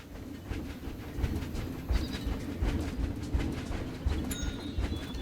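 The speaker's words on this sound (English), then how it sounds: "There's the train." A train rolls past in the zoo-building video game Planet Zoo, with a rhythmic clickety-clack of wheels, birds chirping and cooing over the top and ambient park background, all at moderate volume.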